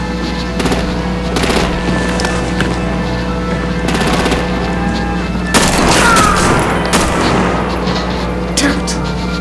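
Bursts of automatic gunfire and heavy artillery booms from a Batman video game crackle over a constant engine-like drone, with a loud cluster of blasts near the middle and voices in the mix.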